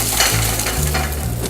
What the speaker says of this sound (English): You want to make sure when you add the shrimp to that pan, you hear that sizzle.